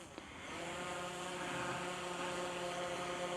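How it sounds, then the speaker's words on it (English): A DJI Mini 4 Pro or Air 3 drone lifts off outdoors, its propellers building into a steady, close, high-pitched whirring buzz that holds evenly throughout with no talking. "so just going to send the drone up"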